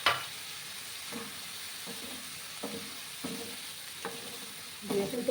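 Potatoes and green peas stir-fried in a pan with spices, giving a low steady sizzle broken by several soft spatula scrapes and stirs at regular intervals, with a louder burst of stirring near the end.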